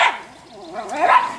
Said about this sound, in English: The other dog's barking now.